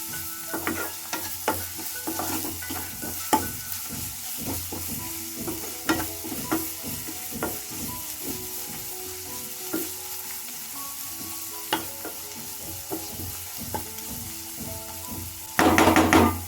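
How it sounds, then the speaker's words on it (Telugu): Turmeric and cumin powder frying in a pan, with a steady sizzle broken by repeated scrapes and clinks of a spoon stirring, ending in a louder burst of sizzling. "లైట్గా పసుపొడి చిటికెడు ఒక కాల్ టీ స్పూన్ అంతా జీలకర్ర పొడి బాగా ఫ్రై చేసుకోవాలి"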